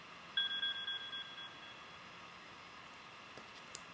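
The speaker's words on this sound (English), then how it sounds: "That was this cool timer. Listen to that. That means my laundry's done" A laundry timer alarm beeps in a quick run of about eight short, bright electronic tones that fade out, then quiet room tone with a couple of faint clicks.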